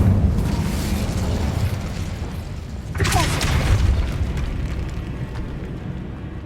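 Incendio fire spell cast in Hogwarts Legacy: a loud, continuous roaring rumble, with a sudden whooshing burst of flame partway through that settles back into a steady heavy roar.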